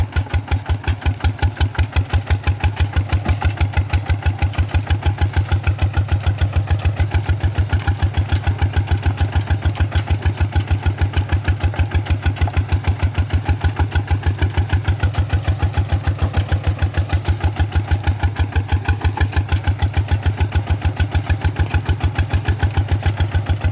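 A small single-cylinder walking tractor engine (RT100) ploughing a rice field in second gear with iron wheels, chugging steadily and loudly nearby, its rapid regular thumping unbroken throughout with no talking.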